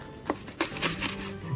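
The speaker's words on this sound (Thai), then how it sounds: "มาเรามาหั่นเลยดีกว่าเดี๋ยวขอหั่นตัวไปก่อนเลยครับ" A knife chops through thick slabs of crispy fried pork belly on a board, a few sharp separate cuts and crunches at close range, with no talking.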